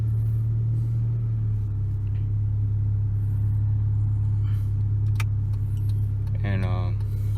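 A Honda Civic EJ8 drives along with a steady, loud engine and road rumble throughout, plus a brief jingle of keys near the end.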